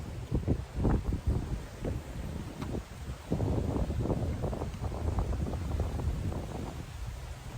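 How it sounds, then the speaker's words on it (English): Wind buffets a microphone fitted with a windscreen on a walk in Sarasota, giving irregular low rumbling gusts that come and go, loud and close, with no other clear sound. "This area has always been very, very windy."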